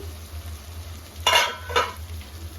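A spoon scrapes and stirs a non-veg curry in a pot, two short clattering strokes standing out over a faint steady sizzle and low background hum.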